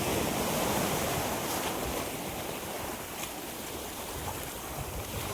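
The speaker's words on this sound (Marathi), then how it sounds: "इथे असे मस्त पाणी आपटतं आहे जोरात जोरात इकडे" Sea waves crash against large rocks at Khavane beach, making a steady, loud, rushing roar with some wind that fills the whole stretch without a break or any voices.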